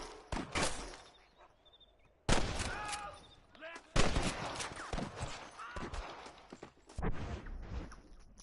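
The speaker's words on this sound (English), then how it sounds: "I can hear more gunshots." Gunfire from the video game Red Dead Redemption: several sharp, loud shots at irregular intervals over a steady game background, with speech-like sound in between.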